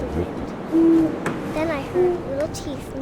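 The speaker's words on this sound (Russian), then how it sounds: "Вдруг я стала совой." A game owl in What Remains of Edith Finch gives a few short, clear hoots, some held longer than others, over soft ambient game sound with a faint hint of voice in the background.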